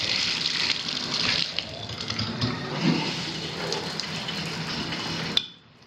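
Water runs steadily from a bathtub faucet during a home plumbing inspection, a close, broadband rushing flow that holds for about five seconds and then stops abruptly with a brief clunk, leaving near silence.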